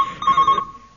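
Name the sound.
mobile phone ringing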